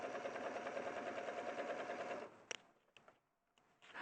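A sewing machine stitches steadily and evenly for about two seconds, then stops, leaving a few soft mechanical clicks in a quiet room.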